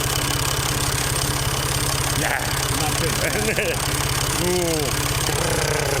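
A Ford tractor engine runs loud and close on a Portuguese farm, a steady rapid chugging throb that continues under brief talk.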